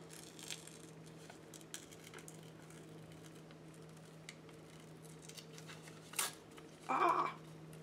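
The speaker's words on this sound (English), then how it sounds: "I've got to get some new scissors. These things are so old." Old, loose, worn scissors snip paper during a papercraft page-building session, giving faint scattered clicks and rustles across a quiet room, then two louder close cuts near the end; no one speaks.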